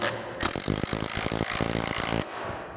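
Bolts from a kit being threaded and tightened with a ratcheting tool on a metal target stand, a close, loud burst of rapid ratchet clicks and grinding lasting about two seconds.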